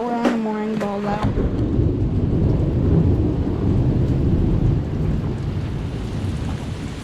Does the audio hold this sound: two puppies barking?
no